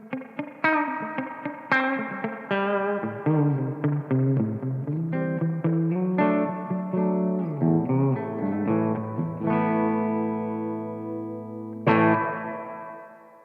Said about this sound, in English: What I'm going to do is switch over to the spring reverb now so you can hear the difference.